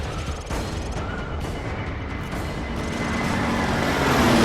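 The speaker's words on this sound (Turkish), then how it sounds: "Rus insansız uçağı üstümüzde." A continuous droning engine roar of a Russian drone aircraft overhead in Call of Duty: Modern Warfare 3, steady and building slightly louder, with faint distant booms beneath.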